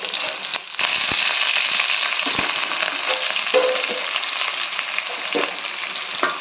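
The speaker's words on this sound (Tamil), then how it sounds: "நல்லா வதங்கி வரட்டும்." Onions sizzle steadily in a pan as a masala base for spicy chicken gravy, with curry leaves in the mix, giving a dense, continuous frying hiss and a few soft stirring knocks, close and without talk.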